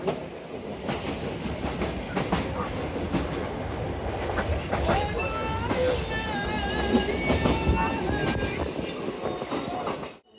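Rupshi Bangla Express bound for Dhaka rolling along the rails, a continuous rumble and clatter of wheels and carriages, with a faint sung call to prayer drifting over it midway before the sound cuts off.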